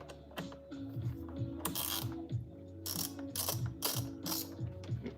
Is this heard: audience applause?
no